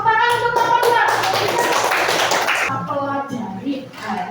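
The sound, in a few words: classroom clapping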